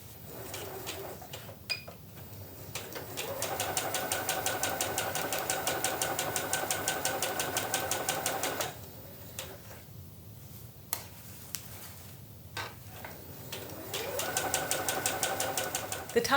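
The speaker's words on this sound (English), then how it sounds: "the top of the bag gets sewn." A sewing machine runs in a steady, rapid ticking burst as it stitches the top seam of a fabric tote bag, pauses with a few light clicks, then starts stitching again, fairly faint and close.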